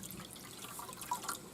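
Water pours into the water tray of a smoker set up for a long pulled-pork cook, a soft, close trickle and splash with a few drip accents, fairly faint.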